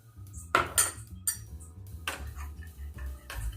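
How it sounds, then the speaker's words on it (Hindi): A spoon clinks against a bowl while semolina kheer is mixed with formula milk, giving a few close, sharp taps and scrapes over a low hum of background music. "और इसे अच्छे से मिक्स कर दूँगी।"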